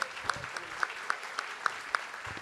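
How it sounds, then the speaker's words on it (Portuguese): An audience at a book fair applauds two authors, with faint, quick, regular claps heard at a moderate distance. The clapping holds a brisk steady pulse for a couple of seconds. "Eu queria agradecer, pedir uma salva de palmas para os nossos autores."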